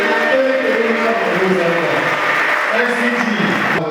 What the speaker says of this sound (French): Est-ce que cette fois-ci on peut applaudir tous ensemble s'il vous plaît?